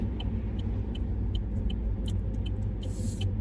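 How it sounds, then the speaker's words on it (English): Inside a car on a driving test route in Milton Keynes, a steady low engine and road rumble fills the cabin while the car slows for a turn, with a faint regular ticking running through it. "slowing down and downshifting before the turn"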